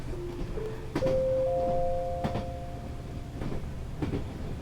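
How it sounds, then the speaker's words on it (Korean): A train rolls past in a Korean horror RPG Maker game set on a subway line, with rumbling low noise, rail clacks and a sustained tonal screech or whistle drifting in pitch over several seconds. "그 원숭이 열차였네"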